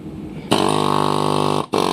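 A power hammer tool drives through the holes of used bricks to knock off old mortar, making a loud, continuous harsh buzz that cuts out briefly and then starts again.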